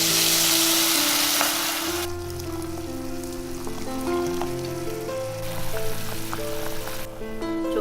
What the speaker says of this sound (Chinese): 炒香了之后，我们就来加入开水。